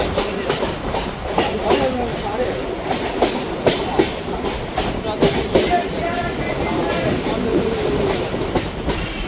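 A local commuter train rolls on from Tollygunge station toward New Alipore, loud close rumble with repeated sharp clickety-clack wheel knocks over rail joints, heard from inside the coach.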